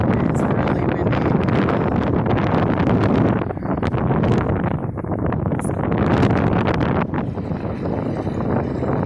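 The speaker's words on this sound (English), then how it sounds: "It's really windy." Strong wind on the Lake Michigan shore roars steadily and loudly into the microphone with heavy buffeting, alone and without a pause.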